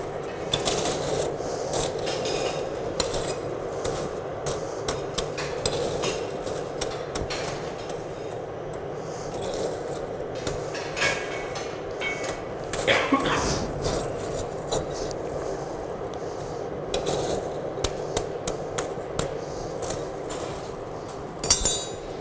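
Metal being hammered on an anvil during a forge-welding demonstration: a steady run of bright ringing strikes against a constant background roar, with clinks repeating throughout and voices faintly underneath.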